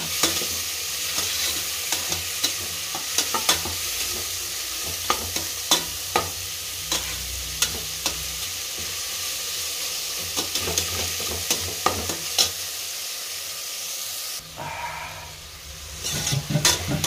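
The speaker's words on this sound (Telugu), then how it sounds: "బాగా కలుపుకోవాలండి ఈ విధంగా." A veg biryani mixture with tomatoes is stirred in a hot pan. A steady sizzle runs under frequent sharp scrapes and clicks of the spoon. The sizzle quiets briefly near the end before the stirring resumes, and nobody talks.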